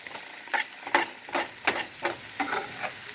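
Onions, garlic, celery and carrots sauté in a soup pot, giving a light sizzle broken by about eight regular stirring scrapes spaced roughly every half second, close and alone.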